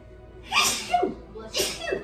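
Two sneezes in a row, close and loud, each a sharp breathy burst followed by a short trailing exhale, with no talk between them.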